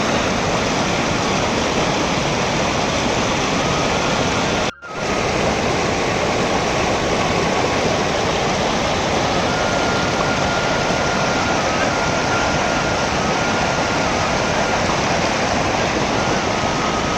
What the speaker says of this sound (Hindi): यही बर्फीला पानी है जो कि पिघल रहा है